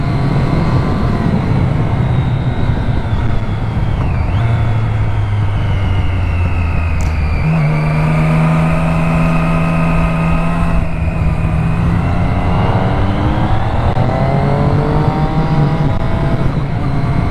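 A Triumph Street Triple R motorcycle engine drones loudly and continuously while riding, its pitch climbing and dropping through repeated quick-shifter gear shifts, with steady wind rush.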